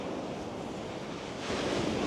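Stormy autumn sea at Fontanka near Odesa. Waves crash and wash continuously with wind noise, and a bigger surge swells near the end, with no voices.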